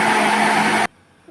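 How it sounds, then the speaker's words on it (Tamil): A kitchen mixie jar grinding curry leaf chutney with garlic and water, a loud steady whirring motor that cuts off abruptly, leaving near silence. "இதை அரைச்சிக்கிடுவோம் தண்ணி ஊற்றி மிக்ஸி ஜாரில்."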